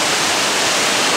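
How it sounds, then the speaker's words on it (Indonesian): Rushing river water at the confluence of the Cisonari and Ciwidey rivers, a steady, dense broadband roar that holds unchanged throughout with no other sounds. "Pertama kita tunjukkan dulu ini sungai dua paduan sungai ya."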